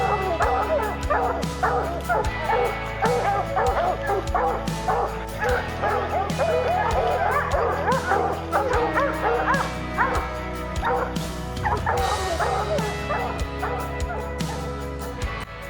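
A pack of coon hunting dogs bays and yips continuously at a tree in the woods, excited barking and whimpers overlapping close by with a steady rhythm throughout.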